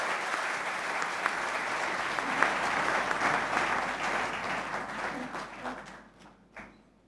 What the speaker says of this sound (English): please applaud the Social Entrepreneurs of the Year 2012